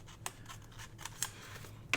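Scissors snip open a package of crocheted doilies, giving several short sharp cuts spaced irregularly over a quiet background.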